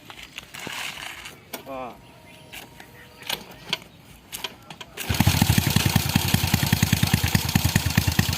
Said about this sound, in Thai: ตอนนี้เดี๋ยวจะพามาฟังเสียงท่อครับผม